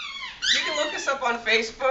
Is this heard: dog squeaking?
yes